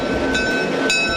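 A diesel train running at the North Carolina Transportation Museum rumbles loudly and close, with a steady mechanical drone and two brief bright bursts of sharper, whining tone.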